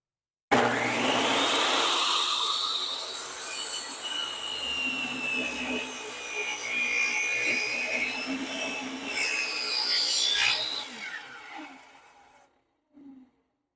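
Power saw making a single long cut through wood for an outdoor end table, a loud close whirring rip that holds for about ten seconds, then winds down to quiet with a small knock at the end.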